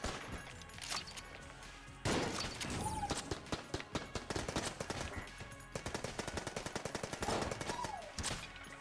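Rapid bursts of machine pistol fire in a video game, sharp close cracks rattling in fast strings with short pauses between volleys, joined by a few brief whooshing game effects and no talk.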